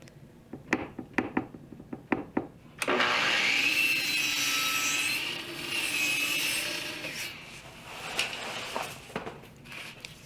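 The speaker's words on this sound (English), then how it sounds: "the Baltic birch plywood is being screwed on the sides and the back" A power drill drives screws through Baltic birch plywood into the sides and back of a wooden entry bench frame, with a few sharp knocks first, then a long loud whirring drive that tapers off into scattered taps.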